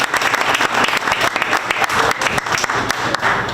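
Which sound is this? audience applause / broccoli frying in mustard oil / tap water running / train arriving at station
audience applause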